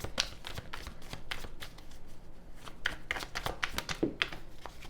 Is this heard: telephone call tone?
no